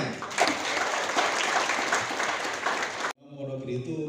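A crowd at a cooperative branch inauguration in Semarang claps loudly and densely for about three seconds, then breaks off abruptly as a voice begins speaking.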